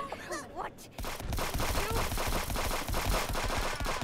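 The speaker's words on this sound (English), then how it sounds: "Oh, they put down a freaking turret, Johnny." Rapid automatic turret fire in the game Friends vs Friends, a dense, loud stream of shots that kicks in after a brief pause and continues steadily.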